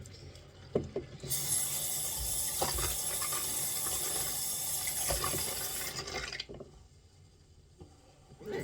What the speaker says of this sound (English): Now, I'm going to drain the water.